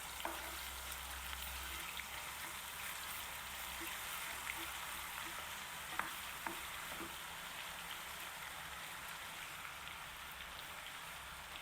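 Chicken pieces coated in ginger garlic paste sizzle and crackle steadily in a pan, a continuous close frying hiss with a few occasional stirring clicks and no voices.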